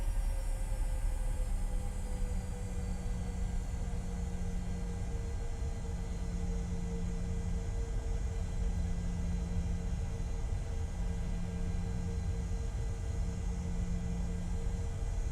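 Airliner engines in Microsoft Flight Simulator 2020 roar at full throttle for takeoff, a steady, loud, broad rumble with a sustained whine, plus an intermittent low pulsing tone.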